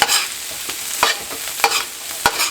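Spam and shrimp fried rice is stirred in a hot pan, giving a continuous loud sizzle broken by several sharp scraping strokes of a spatula at a slow, even pace.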